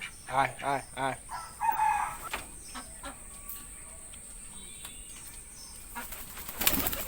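Pigeons flap their wings in a quick run of rhythmic bursts near the start, followed by quieter rustling ambience and a final flurry at the end.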